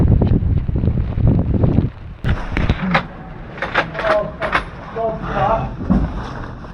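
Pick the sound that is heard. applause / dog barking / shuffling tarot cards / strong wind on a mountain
strong wind on a mountain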